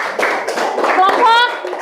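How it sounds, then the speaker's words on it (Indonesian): Schoolchildren in a fourth-grade classroom clap for a presenting group. The claps form a brief, loud, dense burst close by, with children's voices mixed in. "berikan tepuk tangan untuk kelompok"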